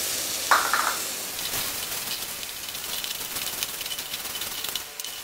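Mudakathan greens and onions sauté in a pan, giving a steady close sizzle with stirring scrapes and an early sharp clatter as the leaves go in.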